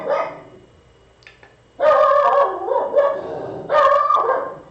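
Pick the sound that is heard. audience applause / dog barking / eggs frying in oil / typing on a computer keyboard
dog barking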